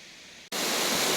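Steady, dense roar of a waterfall cascading over limestone at Putri Nglirip in Indonesia, filling the clip loudly after a brief dip near the half-second mark, broadband and unbroken.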